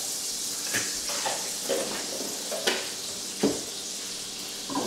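Olive oil and a tablespoon of butter sizzle steadily in a hot frying pan before salmon goes in, a continuous bright hiss broken by a few louder crackles and pops, close and with no talk.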